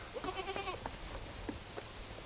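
Goats bleat at a farm around hay feeding, a wavering cry near the start followed by softer scattered calls, fairly quiet and brief.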